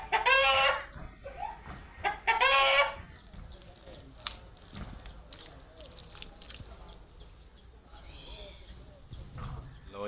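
A mother hen clucks loudly with her chicks as they peck at grain outdoors, two strong calls up front followed by soft scratching and faint chirps, with a voice talking through part of it.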